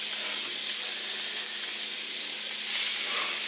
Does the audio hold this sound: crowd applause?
no